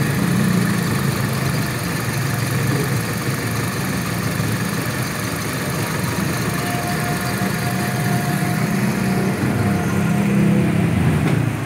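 A 2006 KIA Sportage 2.0L engine idles with a steady, even hum and low rumble, close and continuous throughout with no voices.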